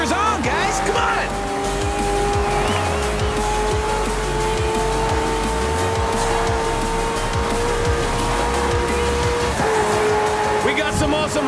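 McLaren P1 and other hypercars race in Forza Horizon 4, engines wailing continuously with repeated tire squeals and skids, loud and close, while a voice talks over the action.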